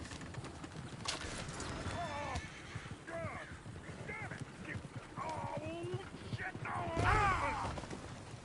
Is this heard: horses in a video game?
yes